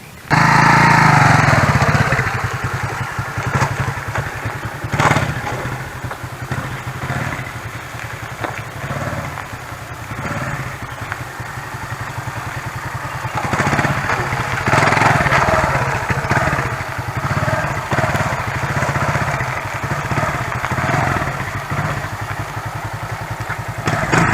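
A KOVI Verta 200 street motorcycle engine runs continuously up close, a loud rough idle with rattling and clatter, swelling and easing slightly over the long stretch.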